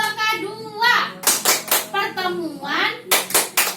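An Indonesian group of mothers performs the P2K2 clap chant, with sharp bursts of hand clapping in rhythmic clusters between chanted voices and children's speech.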